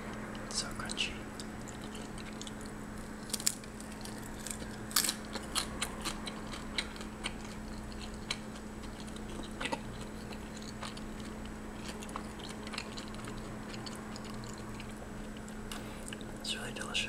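Close, crisp crunching and biting of a fried shrimp dumpling in irregular bursts, with a steady low hum in the background and no talking.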